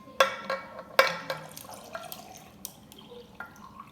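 Chai tea is poured quietly into a jar over ice, with a few sharp clinks at the start and soft trickling and drips afterward.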